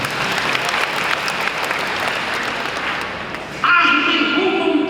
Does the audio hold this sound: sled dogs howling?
no